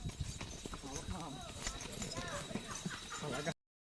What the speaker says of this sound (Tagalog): Grabe naman itong kabayo na ito. Ang bilis.